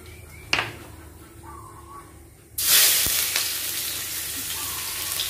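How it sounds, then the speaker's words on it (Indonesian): Garlic dropped into very hot oil in a pan with a high flame, bursting into a loud, bright sizzle midway after a quieter stretch with a single clatter, then frying steadily with hiss and spatter. "Sekarang kita mau masukkan dulu bawang putihnya dulu ya."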